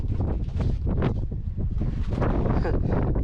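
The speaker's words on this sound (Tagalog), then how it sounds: "lakas ng hangin talaga dito" Strong gusty wind near a hot spring buffeting the microphone in loud, uneven roaring bursts, with a person speaking faintly underneath.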